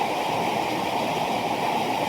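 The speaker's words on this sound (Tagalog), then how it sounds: "Sobrang lakas ng ulan." Heavy rain pours down steadily, a dense, loud hiss that carries on without a break the whole time.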